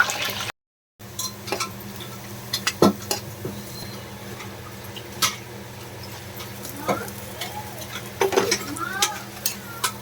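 Potatoes fry in a pan in a home kitchen, with a low steady sizzle punctuated by scattered utensil stirs and clinks, some louder scrapes near the end.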